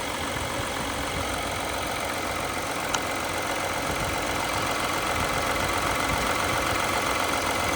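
Engine of a 2021 Audi car idling steadily after starting, a continuous broadband hum running through the whole stretch with one brief click partway, close and even, no voices.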